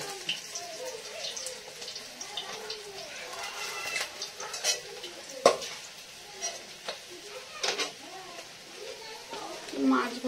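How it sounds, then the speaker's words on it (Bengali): Fish frying in a home kitchen pan gives a soft, steady sizzle with stirring and occasional clinks of utensils, low under a nearby voice. "মাছ ভাজা হয়ে গেছে।"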